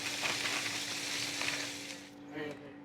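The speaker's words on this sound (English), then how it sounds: "so putting our wings in the oil here. We've got hot oil. I'm using grapeseed oil this time" Flour-coated chicken wings frying in hot grapeseed oil in a cast iron skillet, a steady dense sizzle and crackle filling the whole clip, easing slightly near the end.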